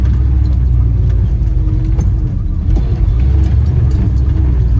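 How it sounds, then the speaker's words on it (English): An old Jeep engine crawling off-road over big rocks, a loud, steady low rumble with mild revving swells throughout, close and uninterrupted by talk. "You gotta love the old Jeep. She knows how to do it. But I think I'm gonna have to put it in four-wheel drive."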